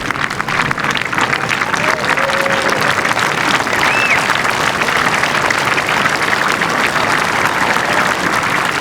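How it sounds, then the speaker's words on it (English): Golf gallery at the final round of the Omega European Masters applauds a two-time champion, loud dense clapping from a large crowd sustained throughout, with faint voices and a brief whistle-like tone mixed in. "Good applause for the two-time champ."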